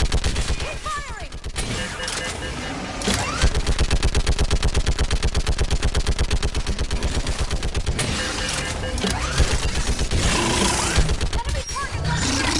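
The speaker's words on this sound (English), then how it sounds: "Keep firing." Sustained automatic gunfire from a combat firefight in Mass Effect 3, dense rapid bursts rolling continuously for several seconds with explosive roars and distant shouted voices mixed in.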